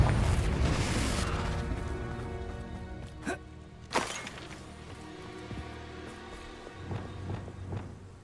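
Confringo blasting spell in Hogwarts Legacy: a heavy booming burst at the start decays into rumble, followed by several sharper separate impacts and pops spaced a second or more apart.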